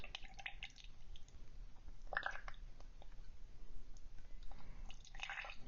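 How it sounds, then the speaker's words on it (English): Water is squeezed from a bulb syringe through an ink-stained TWSBI Classic fountain pen barrel, giving soft, close, intermittent drips and squishy splashes. "I'm going to use my bulb syringe and some water and just rinse that barrel"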